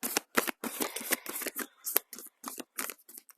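Tarot spell cards being shuffled by hand, a close run of quick riffling bursts separated by short pauses, each burst a crisp papery flutter.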